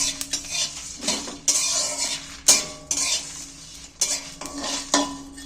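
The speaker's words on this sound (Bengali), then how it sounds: "এবার মশলা শুকনো খোলায় ভেজে নেব।" Whole spices dry-roasting in a dry pan, with repeated sharp scrapes and clinks of a metal spoon stirring against the pan in uneven bursts, close and fairly loud, over a faint sizzle.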